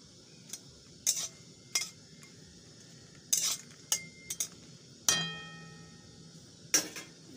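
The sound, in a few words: dried red chillies being pressed and fried in a pan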